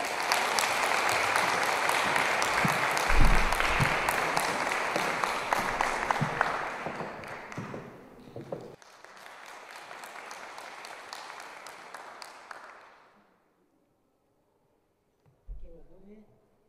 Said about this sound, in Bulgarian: Вашите бурни аплодисменти за Христо Илиев!